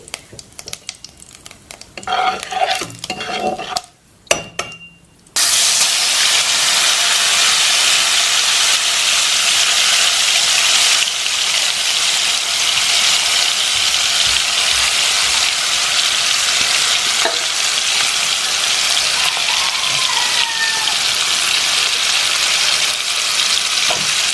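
Whole cumin seeds dropped into hot oil for a fish fry burst into a loud, steady sizzle that fills the rest of the time, after a few seconds of quieter kitchen handling noises.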